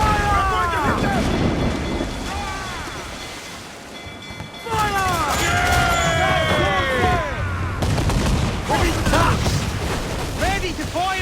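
Naval cannon fire during a sea battle in the Assassin's Creed IV video game, booming shots bursting over rushing wind and sea noise while crew voices shout throughout.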